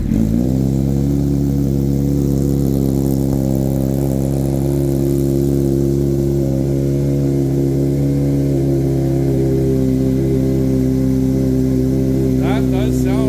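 A 2024 Kawasaki Z900 motorcycle with a full M4 aftermarket exhaust, on a cold start, idles loud and steady with a deep harmonic rumble throughout, a brief sharper burst near the end; someone talks faintly over it.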